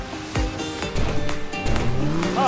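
Racing cars in the Fortnite video game roar past in quick succession, with engine whooshes and a rising tonal whine, close and loud over a steady background hum, no talking.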